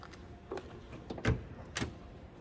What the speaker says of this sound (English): the door, I mean, you can open it, it just sticks a little bit